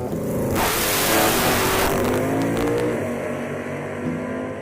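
A 1979 Camaro drag car's engine revs hard, a loud, close roar that surges sharply and then settles into a throbbing, rising drone at a drag racing event.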